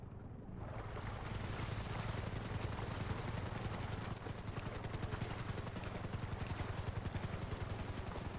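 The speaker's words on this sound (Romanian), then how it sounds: "Auziți elicopterul?" A helicopter hovers overhead in GTA 5 FiveM, its rotor making a loud continuous pulsing chop that rises quickly at the start and then stays steady and close for the rest.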